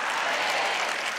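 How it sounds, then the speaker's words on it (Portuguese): A church congregation applauds during a Catholic sermon, a brief burst of steady, close clapping from a crowd with no talk over it. "você aplaudiu porque você entendeu, você aplaudiu porque você de fato quer"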